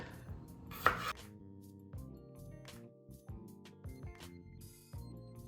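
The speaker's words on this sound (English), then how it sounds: "what I'm doing is I'm cutting the potatoes in half" A knife slices mini potatoes in half on a cutting board, a quick series of crisp chops and board taps in an uneven rhythm, close and fairly quiet.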